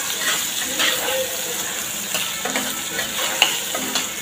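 Onion sautéing in a pan for instant tiffin sambar, a continuous moderate sizzle with spoon stirring and a few light clinks, fairly close, without speech.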